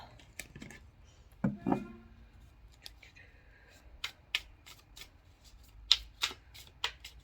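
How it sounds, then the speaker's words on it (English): Tarot cards shuffled by hand for a reading, crisp riffling bursts and sharp slaps spaced irregularly, close and fairly quiet against a silent room. "I'm gonna pull some tarot cards now"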